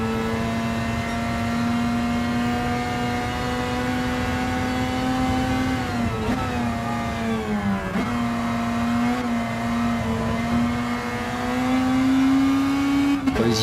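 A car on a racetrack brakes hard into a corner on sport tyres, the engine dropping through the gears with sharp rev blips and pitch dips before climbing again, loud and close throughout.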